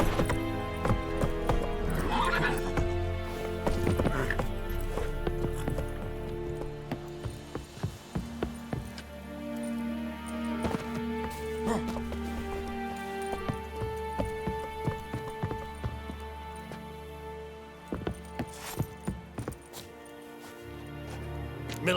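Roach, Geralt's horse in The Witcher 3: Wild Hunt, trotting with steady hoof clip-clops and an occasional snort or whinny, amid game ambience and soft rain, with some character speech.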